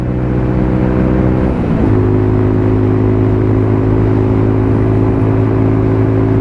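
An AJS Desert Scrambler 71 motorcycle being ridden, its exhaust giving a loud, steady engine drone that dips briefly at a gear change, then settles into a constant note with no talking.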